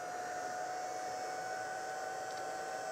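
Steady, even whoosh of a heat embossing gun blowing hot air, with a constant whine running through it the whole time and no break or change.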